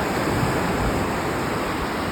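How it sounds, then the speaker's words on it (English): Ocean waves breaking on a sandbar at Breach Inlet, a steady continuous wash of surf held at constant loudness without pause, broadband roar with some wind across the microphone. "you can see where the waves are breaking out there"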